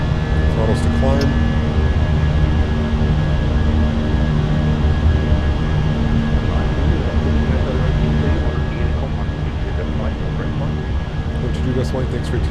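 A simulated Fenix A320 with IAE engines runs at climb thrust in Microsoft Flight Simulator, giving a loud, steady cockpit engine roar with a constant whine and a dense broadband rumble. The sound holds evenly throughout, with faint voices underneath.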